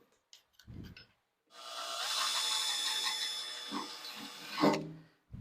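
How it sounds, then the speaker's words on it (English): A drill whirs steadily, boring a hole for a grill temperature gauge, loud and close, for about three seconds after a few short knocks and taps. "we drilled out the proper size hole"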